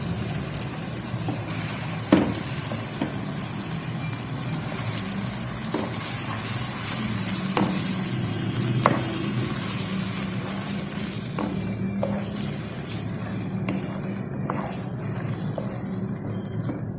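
Chicken jalfrezi with spices and tomato puree fries steadily in a pan, a continuous bright sizzle with occasional crackles and pops, no voices.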